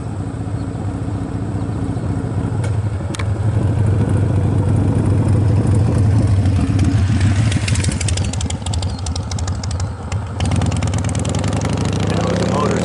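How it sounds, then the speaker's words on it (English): A motorcycle passing along a rural road beside a crop field, its engine swelling loud and clattering as it goes by close, then fading off into the distance. "That was a motorcycle that just went by,"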